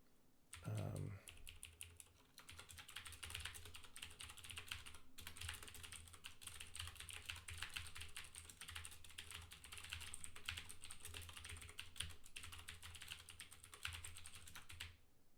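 Code is typed on a computer keyboard in a steady, quiet clatter of rapid keystrokes that runs continuously after a brief thump at the start.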